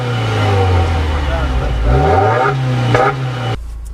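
A 2015 Subaru WRX with a CVT accelerating, its engine holding a steady droning pitch before rising and surging, close and loud beneath someone talking, then cutting off abruptly at the end.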